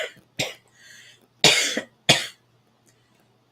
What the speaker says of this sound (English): That coughing is not for you.